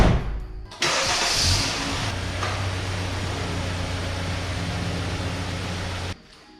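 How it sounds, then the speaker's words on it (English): A Kia Forte starts up and is driven down off a set of ramps after an oil change, with a steady mid-pitched engine running close by for several seconds before cutting off. "so I'm going to drive it off of these ramps."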